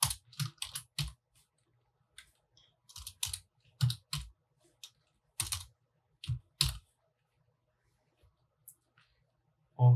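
Keys clack on a computer keyboard in short bursts of typing separated by pauses, close and fairly quiet, with a brief louder knock at the very end.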